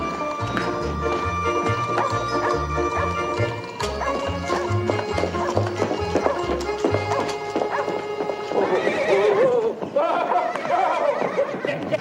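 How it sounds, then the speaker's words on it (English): A runaway horse neighs and whinnies amid loud clip-clop hoofbeats and bustle, with music playing throughout and voices talking over the commotion. "Your horse ran away again, Mr. McGee."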